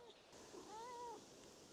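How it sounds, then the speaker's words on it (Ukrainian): A cat meows once, a faint, drawn-out wavering cry outdoors among birch trees near a fishing spot, alone over a quiet background hum. "тут уже нова кошечка ходить, нявкає"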